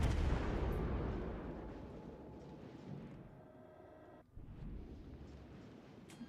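Heavy naval guns boom from a warship in World of Warships: Legends, a loud opening blast rolling off into a long rumbling decay, with a second duller thud near the end and no talk.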